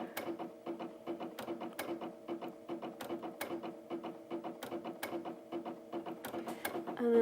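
A Brother Innov-is VQ2 sewing machine stitching steadily, its needle mechanism producing a fast, even train of mechanical clicks and ticks, close and alone.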